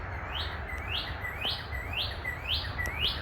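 A northern cardinal sings outdoors, repeating about six evenly spaced, rising slurred whistles at a moderate distance over steady background noise, with no talking.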